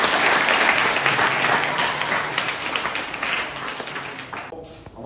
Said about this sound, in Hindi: तालियां हो जाएगी इनके लिए